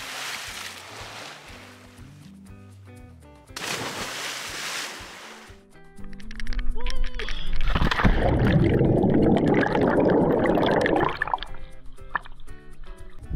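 A person plunges into a lake: rushing wind and water noise, then a loud broad splash and churning, bubbling water that continues for several seconds, close and loud, over a faint musical background.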